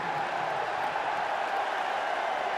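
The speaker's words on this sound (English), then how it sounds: "Mock cheer from the Tennessee fans." Tennessee football fans let out a sarcastic mock cheer after a false start penalty during the 2019 Tennessee vs South Carolina game, a steady wash of stadium crowd noise lasting the whole moment without a clear peak.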